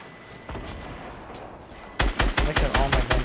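Sniper rifle fire in a multiplayer shooter game: one isolated shot, then a quick run of loud, evenly spaced cracks close by, each with a heavy low punch.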